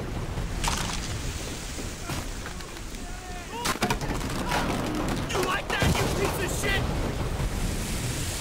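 Rifle and machine-gun fire crackles in Call of Duty: World at War, repeated bursts and single shots in a dense battlefield din, with voices under the shooting.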